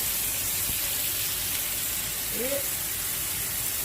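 A T-bone steak sizzles in a skillet with a steady, close, hissing crackle that stays even throughout, broken only by a brief faint vocal sound.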